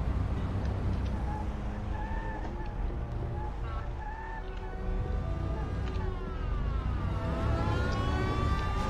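A police car siren wails in the video game Mafia, rising and falling faintly at first and then sweeping louder near the end over a steady rumble of game noise.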